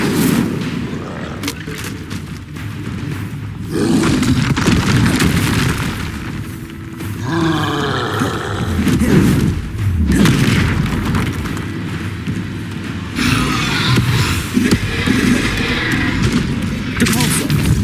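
Confringo explosive spell blasts in Hogwarts Legacy, loud repeated booms and bursts amid battle effects, with voices shouting at points through the fight.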